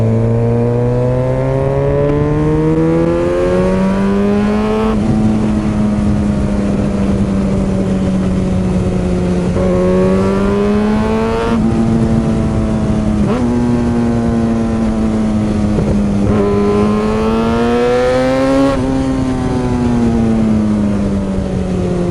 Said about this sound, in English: Sounds so good, this bike.